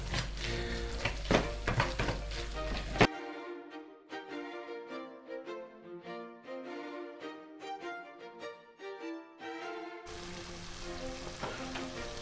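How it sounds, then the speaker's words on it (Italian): Zucchini fritters fry in hot oil in an old pot, crackling and sizzling steadily throughout, while soft music plays through the middle section. "Ed ecco le nuvole di zucchine che si stanno cuocendo in una vecchia pentola"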